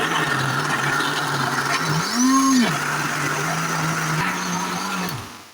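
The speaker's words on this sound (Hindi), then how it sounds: "टमाटर सब्ज़ मिर्ची सारी अच्छी तरह से ग्राइंड हो चुकी है" A kitchen blender grinds tomatoes, green chillies and milk for chicken karahi, a steady close motor whir whose pitch rises briefly midway before the machine winds down and stops near the end.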